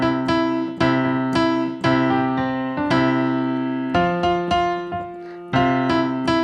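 Keyboard melody with sustained harmonic notes struck in a steady rhythm, the second pass through the phrase varying slightly; clear and close with no voices.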